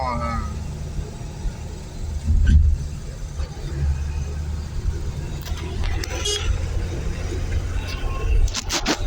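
A Renault 4L driving on the road and overtaking another vehicle, its engine a steady low rumble with passing traffic and a brief honk-like burst, while someone talks over it.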